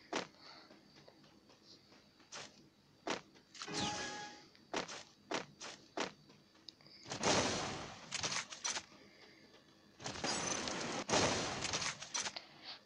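Gunfire in the mobile battle royale game Free Fire, with a charge booster gun: sharp single shots and short bursts scattered through the clip, some dense crackling volleys, loud and close with no talking.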